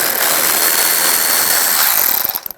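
A power tool with a 10mm socket driving a bolt out of a Nissan Xterra panel during a fog light install, a loud continuous whirring buzz close by that sputters and cuts off at the end.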